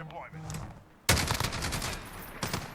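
L85A2 rifle fired in Call of Duty Modern Warfare, a short burst of rapid automatic shots that starts suddenly and stays loud, with a quieter voice heard beforehand.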